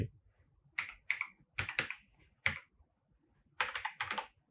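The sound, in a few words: typing a bike number on a computer keyboard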